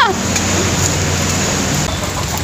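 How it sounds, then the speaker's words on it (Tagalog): Heavy rain pours down during a motorcycle ride, a loud, steady hiss of downpour with a low engine hum beneath it. "Makapag-vlog na umuulan."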